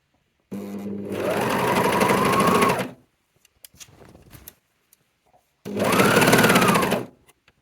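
A sewing machine stitches a silver upcycled jumper in two fast, loud bursts of about two and one and a half seconds, with quiet fabric handling between them.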